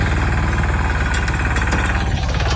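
A mini tractor's small diesel engine chugs loudly and steadily up close in a farm field, with a rapid knocking throb and a few metallic clanks over the drone.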